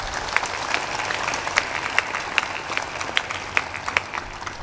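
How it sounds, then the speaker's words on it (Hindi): Loud applause from a satsang audience, a dense steady patter of clapping with sharper individual claps standing out throughout, no talking over it. "जोर से ताली बजाना।"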